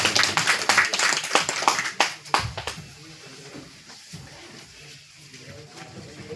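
Applause from an audience at a poetry book launch, a burst of brisk clapping that fades out after a couple of seconds, followed by quieter room sounds and a voice.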